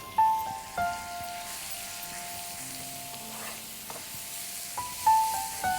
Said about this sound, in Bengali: গাজর যে মিহিন গ্রেট করে রাখা, সেই ঘিতে একটু ভেজে নেব।